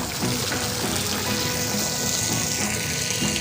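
Water falls steadily in Rishi Aurobindo garden at Halishahar, a continuous broadband rush that stays even and fairly close for the whole stretch, with no voices over it.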